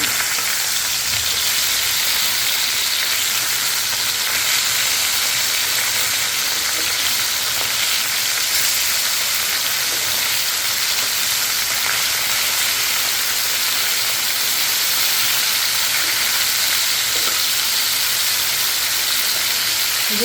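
Pabda fish frying in hot oil in a pan, a steady, dense sizzle and crackle holding loud and even from start to finish with no talking.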